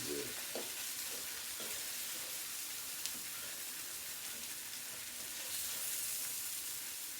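Bologna slices frying in a pan for an egg and cheese sandwich, giving a steady, close sizzle and crackle that runs unbroken throughout with occasional spits and pops and no talking.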